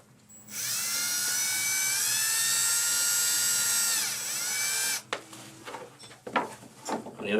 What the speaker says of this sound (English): Grab your screwdriver or your screw gun.